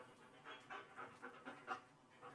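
A dog that needs to go out pants steadily indoors, a quiet, close, rhythmic series of breathy huffs.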